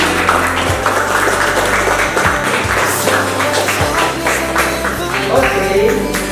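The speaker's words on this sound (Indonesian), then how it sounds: "Sekali lagi, berikan tepukan yang gemuruh." Applause at a wedding registration ceremony, a loud, steady crowd clapping throughout with music playing underneath.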